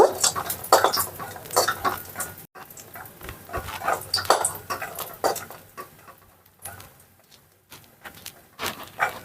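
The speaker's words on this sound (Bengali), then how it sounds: "বড়িগুলো একটু ভেজে নেব" Lentil dumplings (bori) fry in hot oil in a wok while a utensil stirs and clanks against the metal. Irregular clatter and scraping sit close over a soft sizzle, with no talk.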